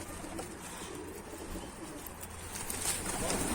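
Mardin pigeons on a rooftop, soft cooing and light wing flapping heard faintly over a low, steady background hum.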